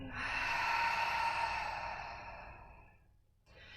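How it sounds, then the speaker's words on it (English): A long, deep exhale during yoga breathing, a soft airy whoosh that swells and slowly fades, followed by the quiet start of another breath, close and alone. "A big breath in. And breath out."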